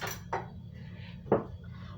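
A fork is pulled from a cluster of cutlery, giving a few light metallic clinks and rattles that stand out close by in a quiet kitchen.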